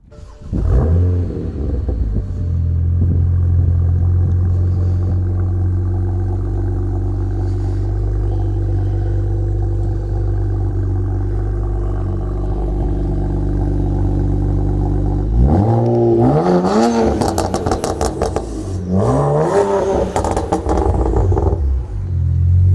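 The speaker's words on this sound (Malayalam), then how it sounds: "പിന്നെ വണ്ടിയുടെ എക്സോസ്റ്റ് നോട്ടൊന്ന് കേട്ട് നോക്കാം." A BMW E92 with a 3-litre inline-six twin-turbo engine idles with a loud, steady exhaust drone, then is revved hard several times in quick rising and falling bursts near the end, close and without talk.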